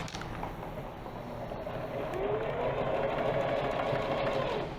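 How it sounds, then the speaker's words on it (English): A sewing machine stitches lace onto a T-shirt, a soft continuous whirr that grows slightly louder and steadier toward the end, with no voices. "sew that last inch there, picking up both of those pieces of lace at the same time."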